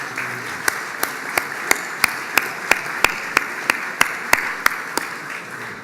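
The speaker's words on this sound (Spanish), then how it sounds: "un fuerte aplauso" An audience at a business association luncheon applauds in a steady dense wash of clapping, with a few louder, evenly spaced sharp claps standing out above the crowd.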